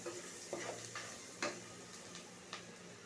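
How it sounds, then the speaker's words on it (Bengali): Fish sizzles steadily in a hot pan as it is sautéed, with a utensil scraping and stirring in several distinct strokes at close range; no talking. "মাছটা ভুনা করবো।"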